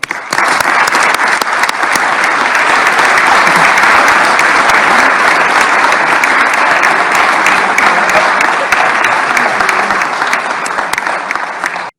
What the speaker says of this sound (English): Please give one more round of applause for this group today.